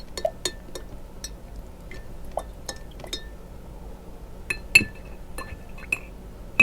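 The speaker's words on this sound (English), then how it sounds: "Just trying to rinse my brush right here so I can pick up the next color." A gouache paint brush is rinsed in a glass of water, tapping and clinking against the rim in light, irregular ticks, close and fairly quiet, with soft swishing between the clinks.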